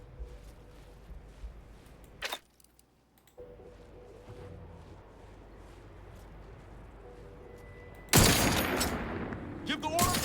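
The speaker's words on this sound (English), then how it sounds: "Let's just finally test my new sniper rifle here." Sniper rifle fire in The Outer Worlds 2: a sharp loud shot cracks out early, then a heavier, sustained blast erupts near the end over low game ambience.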